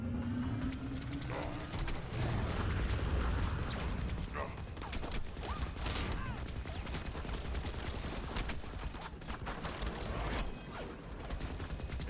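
A minigun in a video game fires a continuous, dense bullet stream, a loud unbroken roar of rapid shots and clattering mechanisms lasting the whole stretch.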